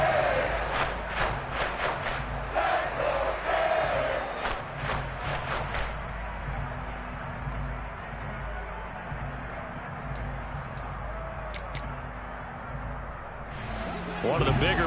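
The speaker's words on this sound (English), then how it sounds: "The crowd getting into it as we come up on a big 3rd down." Stadium crowd of American football fans at a Dolphins vs. Bills Week 14 game, fourth quarter on a big third down: a sustained roar that swells toward the end, under steady commentary talk.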